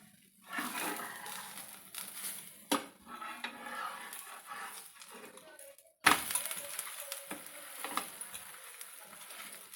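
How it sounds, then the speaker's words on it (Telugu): A moong dal pesarattu being turned over on a hot oiled pan: soft sizzling and scraping with a few sharp metallic clinks of the spatula against the pan, close and fairly quiet, with no talking. "ఇప్పుడు పెసరట్టు తిరిగేసుకుందాం."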